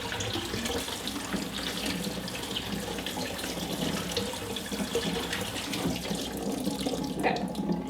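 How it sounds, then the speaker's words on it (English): Salted, wilted eggplant is rinsed under a running kitchen tap, a steady close rush of water splashing in the sink with no talk over it. "once this is wilted, like I said, we're going to rinse it to get the salt off there"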